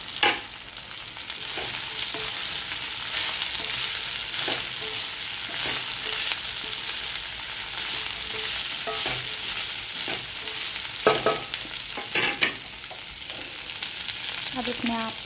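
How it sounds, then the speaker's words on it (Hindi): Chopped okra and chilies frying in a pan for masala bhindi, a steady broadband sizzle throughout with occasional stirring clatters and scrapes, no talk. "इसमें कटी हुई भिंडी और मिर्च दोनों साथ में ही ऐड कर देंगे।"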